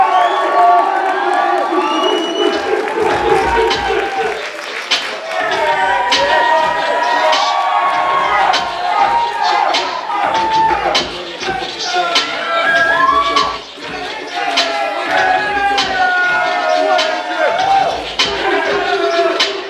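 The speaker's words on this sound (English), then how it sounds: "Let's have a big round of applause for Mr. Adrian Gray." A large crowd at the 2015 Saxon Classic roars and cheers loudly with shouts and whoops, a continuous wave of noise with some clapping mixed in.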